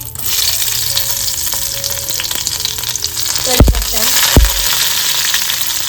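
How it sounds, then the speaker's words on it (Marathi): Four garlic cloves fry in two spoons of oil in a kadhai for bombil rassa, a steady close sizzle with a couple of sharp metal spoon knocks partway through, no speech. "इथे कढईत ना 2 चमच तेल घालून घेतलेलं आहे. इथे 4 लसणी घालते"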